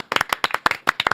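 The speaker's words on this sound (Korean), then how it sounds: "박수로 맞이합니다" A studio audience claps to welcome a reporter onto a talk show about Cambodian crime compounds. The claps are close, crisp and rapid, a lively burst of many hands heard alone.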